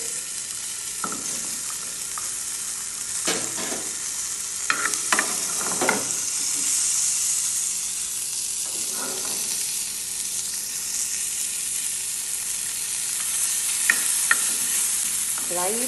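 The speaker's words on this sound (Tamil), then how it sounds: "அதோட இந்த வெள்ளைப்பூண்டே போட்டுருவோம் வதங்கிறதுக்கு." Garlic sautéing in a pan for gotu kola pachadi, a soft steady sizzle close by with a few scraping stirs of the spoon scattered through, no talking.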